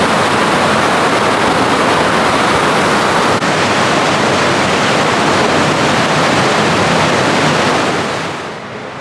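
A powerful waterfall on Scotland's NC500 route gives a loud, unbroken roar of rushing water with wind buffeting the microphone, steady throughout and easing slightly at the very end.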